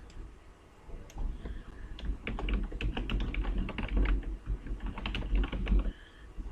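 Quick bursts of keystrokes on a computer keyboard, close and fairly soft, in uneven clusters of clicks with brief pauses, no voice present.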